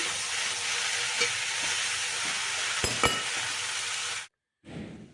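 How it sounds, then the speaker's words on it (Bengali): Cauliflower stalk curry with spices sizzles steadily in a pan while being stirred, a dense frying hiss with a few sharp utensil clicks, then a brief cut to silence before the sizzle resumes more faintly. "এই দেখো ভালো করে মিশিয়ে নিচ্ছি"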